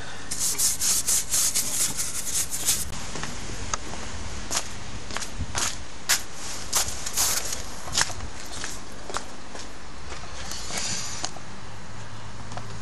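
Brush scrubbing Gunk degreaser onto the oily engine of an MGB car under rebuild, a steady run of close rasping rubs with sharp scraping strokes, busiest in the first few seconds and then more spaced, with no talking.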